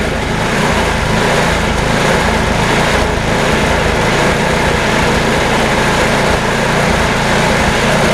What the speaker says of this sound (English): Runs a lot better half choke.